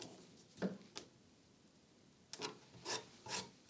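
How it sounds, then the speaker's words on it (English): Plywood pieces being hand-sanded: two short rasping strokes early on, then a quiet pause, then three or four louder, rhythmic scrubbing strokes close by, with no talk. "Let's give both of the pieces a quick sand so they look a little bit nice."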